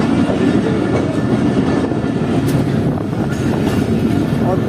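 A train runs along a track through a market in Kuchlak, Balochistan, with a loud, close, continuous rumble and rhythmic clatter of wheels, steady throughout.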